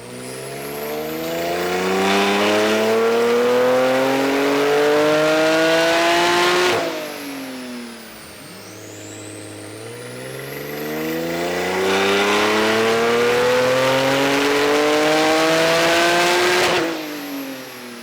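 Porsche 991.2 with a titanium exhaust on a dyno, climbing loudly through the gears in two long full-throttle pulls that each end in a sharp cut and a brief lull between runs.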